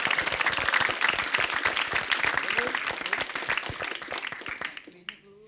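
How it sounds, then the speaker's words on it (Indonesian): Studio audience applause on an Indonesian television comedy quiz show, a dense, loud burst of many hands clapping that carries steadily for about five seconds, then tapers off with a voice coming in at the end. "kita tepuk tangan dulu buat Diana Yusuf"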